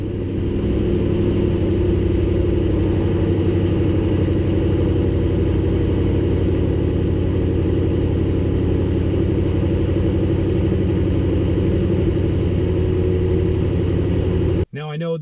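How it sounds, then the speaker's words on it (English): A deep, steady engine rumble with a throaty exhaust note from a Toyota Tundra pickup at cold start, idling continuously and loud up close, cutting off abruptly at the end. "let's start off right away with the BA exhaust system at a cold start"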